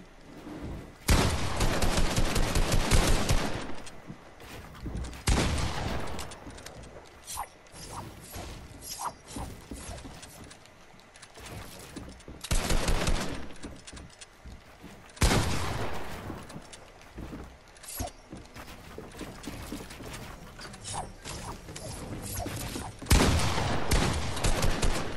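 Rapid automatic gunfire in a 1v1 Fortnite-style boxfight video game, loud close bursts repeating across the stretch with brief pauses between volleys, plus mechanical reload and build clicks.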